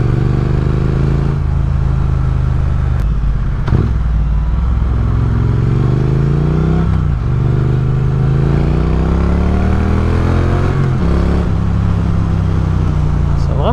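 Triumph Speed Twin 900 motorcycle, a 2024 A2 version, accelerating on the road, its engine rising through several gears with repeated upward sweeps and brief dips at shifts, loud and close with wind noise, while a rider speaks over it.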